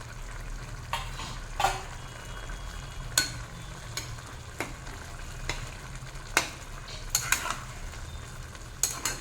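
Prawn and jackfruit seed curry stirred in a pan over high flame: a soft steady sizzle with scattered clinks and scrapes of a spoon against the pan, close and fairly quiet, no talk.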